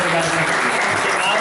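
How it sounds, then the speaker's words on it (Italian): Audience applause at a photography exhibition marking a 60th anniversary, a brief, loud burst of clapping that stays even throughout. "Fatevi un grande applauso"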